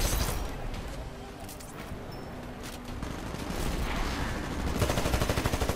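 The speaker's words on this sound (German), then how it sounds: "Der schießt da fröhlich auf unsere Freunde" Continuous rapid gunfire fills a battle in the video game Titanfall, a dense, loud stream of automatic shots with crackling bursts growing busier toward the end, and a voice talking faintly underneath.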